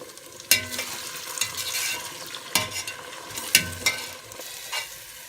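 Onions frying in a pan for poulet yassa are stirred with several distinct clacking scrapes against the pan over a steady sizzle, close up and without talking.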